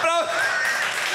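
A short burst of applause, a dense wash of clapping that starts abruptly after a brief voice and carries on steadily.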